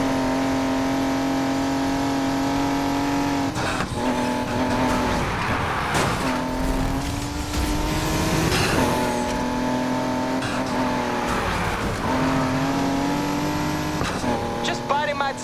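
Car racing in the video game Need for Speed Heat: a loud, close engine whines and revs through gear shifts, with tire squeal and skids layered on top, continuous for the whole stretch.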